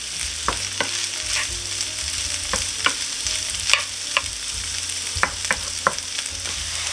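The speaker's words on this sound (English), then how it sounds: "Now this has to cook for about 10 minutes, maybe 10 to 15 minutes until everything is crispy" Corned beef hash sizzles in a frying pan with a steady crackle, punctuated by irregular sharp scrapes and taps as it is stirred, close and clear with no speech.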